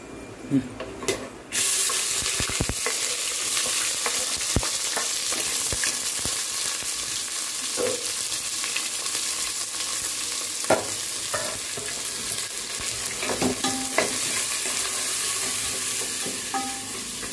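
Onion frying in hot oil with biryani masala for a mushroom green pulao, a continuous loud sizzle with occasional clinks and scrapes of stirring in the pan, no voices.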